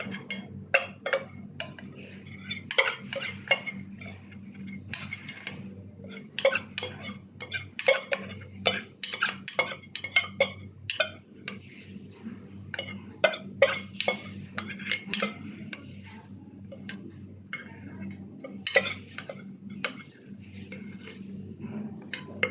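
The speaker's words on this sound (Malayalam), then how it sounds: "ഇനി അത് മിക്സാക്കി നോക്കാം." A spoon stirs a milk mixture in a bowl while kasturi turmeric paste is being made, giving repeated close metallic clinks and scrapes in an uneven rhythm over a low steady hum.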